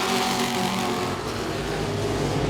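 Modified race cars at Langley Speedway pass close by with a loud, continuous engine roar that swells slightly as they go by, with no talk over it.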